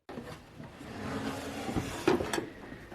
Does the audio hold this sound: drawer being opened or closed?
yes